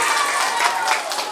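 Audience in a church hall breaking into steady, dense applause, a brief burst of many hands clapping together at close range.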